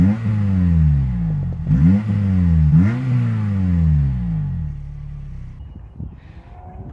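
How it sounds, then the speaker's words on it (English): A 2007 Honda Civic Type R FN2 engine revs up hard through a deep, throaty Powerflow exhaust, climbing and dropping in pitch several times before settling to a rumbling idle. "It's a power flow exhaust, I believe, and it does sound a little bit meatier than the normal ones"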